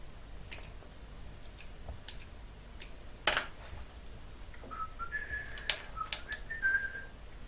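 A short whistled tune, a few bright wavering notes in a quiet room, preceded by a few faint clicks and a sharp rustle.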